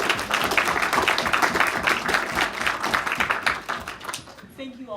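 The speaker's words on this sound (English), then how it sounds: "let's give Dr. Olafsen a big round of applause" Seminar audience applauding Dr. Olafsen, dense continuous clapping from a room of people that thins out and fades near the end, with a voice starting as it dies away.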